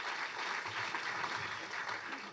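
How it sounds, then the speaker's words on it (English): Soft, steady clapping from a tech meetup audience welcoming the next startup pitch presenter, a continuous patter heard at a distance with a faint murmur underneath. "Big round of applause"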